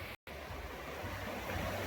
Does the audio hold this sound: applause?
no